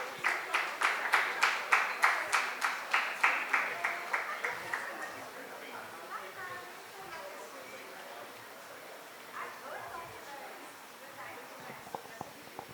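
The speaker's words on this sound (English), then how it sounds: "can we please have a huge round of applause for Ms. Aparna Karthikeyan" An audience applauds a moderator at a panel discussion on editing nature books, rhythmic claps at first settling into a broad wash of clapping that trails off.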